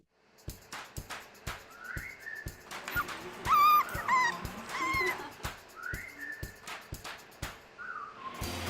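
A litter of adorable puppies at a studio photo shoot gives high, wavering whimpers and short yips, close and fairly loud, broken up by many sharp, repeated clicks with no talking.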